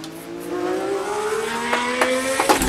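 An Alfa Romeo 155 V6 TI race car in a racing video game at Laguna Seca, its V6 engine revving steadily upward through the gears with short shift breaks and brief tire noise, loud and continuous without talk.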